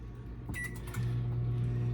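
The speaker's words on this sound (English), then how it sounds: "I'm gonna see if I over microwave my frozen bread." A microwave oven runs on express defrost with frozen bread inside, giving a steady low hum that grows louder after a brief start-up of clicks and a short beep, with no talking.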